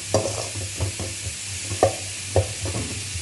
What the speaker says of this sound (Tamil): இப்போ இதே எண்ணெயில் போட்டு லைட்டாக வதக்கிக்கோங்க.